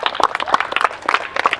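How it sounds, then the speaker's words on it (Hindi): An audience at an Ayush medicine event applauds, producing a brisk burst of uneven clapping with distinct individual claps, loud and close, lasting a couple of seconds. "कीजिएगा, ताली बजाइए"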